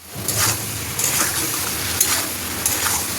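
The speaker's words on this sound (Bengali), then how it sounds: "বন্ধুরা ভালো করে ভেজে রাখা এই মাংসগুলো এখন এর মধ্যে দিয়ে দেবো" Pre-fried chicken pieces stirred into a pan for chilli chicken, with a steady frying hiss and a few scraping strokes of a spatula against the metal, close and continuous.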